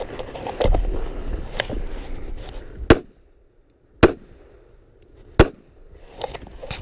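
Pistol shots ring out at an IDPA shooting match stage, with several sharp, loud cracks spaced a second or more apart over scattered background noise and movement.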